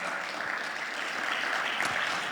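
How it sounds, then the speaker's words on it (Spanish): A church congregation claps together in a steady, dense round of applause that holds evenly throughout, with no clear talk over it. "Dale un fuerte aplauso."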